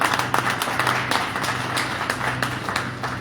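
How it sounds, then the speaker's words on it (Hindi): A seminar audience in Bihar claps loudly for nine company achievers who reached diamond rank, a dense, sustained burst of applause filling the room throughout, with a low hum underneath. "9 लोगों के लिए एक बार जोरदार ताली बजाइए"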